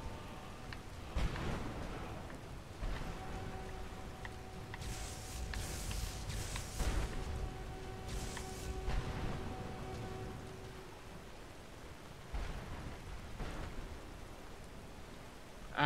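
Rain falling in Skyrim, conjured by a spell, a steady soft patter with faint rumbling underneath and a few brief tonal game sounds over it.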